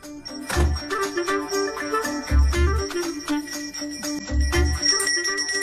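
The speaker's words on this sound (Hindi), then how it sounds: "मुझे जल्दी आओ बोल के यहाँ पर घंटी बजा रहे हो।" A bell rings repeatedly in short bursts with a bright metallic tinkle, fairly close, with some low thumps beneath.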